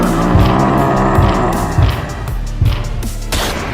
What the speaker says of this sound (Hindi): गुल्ली गाड़ी को और तेज चलाओ, वो देखो वो आ रहा है।